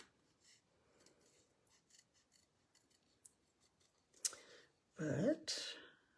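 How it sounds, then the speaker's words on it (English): Scissors fussy cutting paper pieces for handmade card projects: faint scattered snips and paper rustles at first, then a few louder, close crunchy cuts near the end, with no talking. "So we're fussy cutting these"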